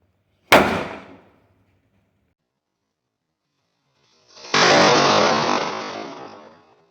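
A sharp, loud electrically detonated firecracker bang rings out and decays, followed after a pause by a second longer burst that roars and crackles before fading.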